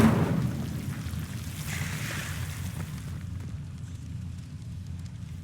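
Incendio fire spell cast in Hogwarts Legacy, a loud whooshing burst of flame at the start that settles into a steady roaring crackle before fading.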